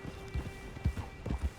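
Horse hooves clip-clopping at a walking pace in the Red Dead Redemption 2 video game, an uneven run of soft thuds close by over a faint steady background, with no talk.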